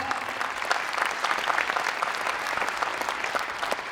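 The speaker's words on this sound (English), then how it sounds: "Let's give them a round of applause." Steady, dense applause from a concert audience, sustained clapping at an even level throughout with no pauses.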